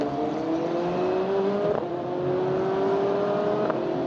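Single-seater race cars circle the Hockenheim circuit, a steady high engine whine with a rising pitch sweep and shifts at intervals, as the field runs continuously under a safety-car period.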